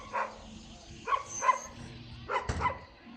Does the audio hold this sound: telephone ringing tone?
no